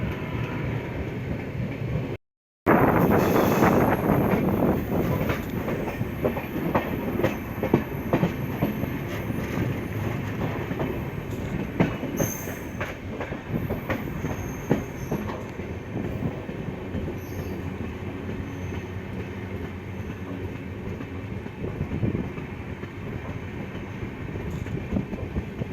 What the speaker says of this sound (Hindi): ये है पंखी धाम रेलवे स्टेशन, जिसको हमारी ट्रेन स्किप कर रही है।